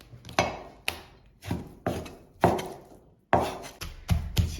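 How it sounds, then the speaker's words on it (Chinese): A knife chops pork and pork fat on a board in heavy, irregular strikes, about a dozen close thuds arriving in clustered bursts, each with a short ringing decay. "切好之后给它剁碎"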